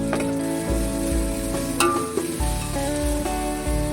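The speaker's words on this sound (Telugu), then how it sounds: "నెక్స్ట్ అల్లం పేస్ట్ వేసుకోవాలి ఫ్రెండ్స్." Ginger paste frying in a pan for fish curry, a steady close sizzle with occasional stirring scrapes, loud and continuous with no talking.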